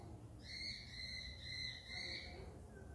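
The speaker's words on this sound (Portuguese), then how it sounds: "tem um passarinho" A small bird chirps in a repeated run of short, high calls, fairly faint against steady background hiss, heard indoors during a home makeup session in quarantine.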